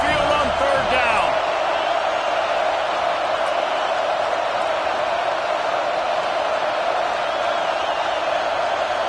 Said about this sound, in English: The Tide crowd rolling noise down onto Saban Field on third down.